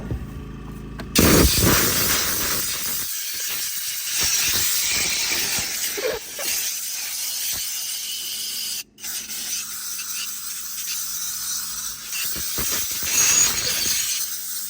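Compressed air blasts steadily through a filthy car interior during detailing, a loud continuous hissing rush with a brief cutoff midway before resuming.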